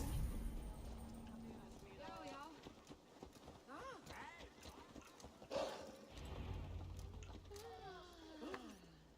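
Horse hooves clip-clopping in Assassin's Creed Valhalla, a steady plodding rhythm in the background under talking voices, with mechanical clanks and faint ambience.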